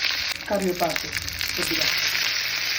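Tempering for mango dal crackles in hot oil: cumin, dried chilies, crushed garlic and curry leaves sizzle loudly and continuously, with a person speaking briefly over the frying.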